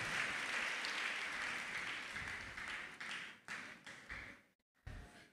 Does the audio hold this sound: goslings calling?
no